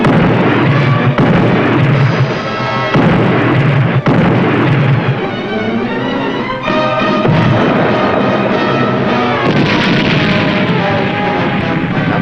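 Loud, dense bursts from a submarine's deck gun firing at an enemy oil cargo ship, booms crowding into one another over a continuous roar of combat noise, with no clear gaps between the shots.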